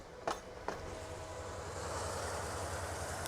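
A fully loaded commuter train in the video game Transport Fever 2 rumbles steadily along the rails, with a couple of sharp clicks near the start and a continuous low mechanical drone.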